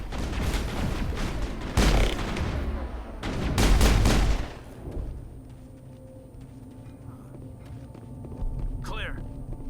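Bursts of gunfire in the video game Mass Effect ring out in two dense volleys early on, then fade to a low ambient hum with faint scattered clicks.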